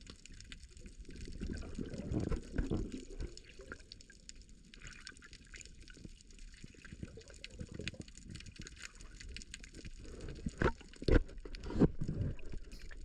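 Homemade carbon fibre spearfishing fins move through water, giving sloshing, gurgling splashes and drips that rise and fall over several seconds, with a few sharper splashes near the end and no talking.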